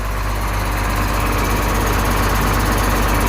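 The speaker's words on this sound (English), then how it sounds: "we're just gonna push the floor to where it's gotta be with the tractor" Versatile 400 tractor engine running steadily under load while pushing a bin floor, a continuous close, loud low diesel rumble with no break.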